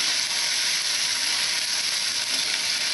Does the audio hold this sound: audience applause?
no